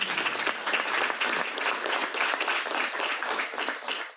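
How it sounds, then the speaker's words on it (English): Sustained applause fills a gathering on New York City gender pay equity, a dense steady wash of many hands clapping at fairly even loudness for several seconds. "Give her another round of applause."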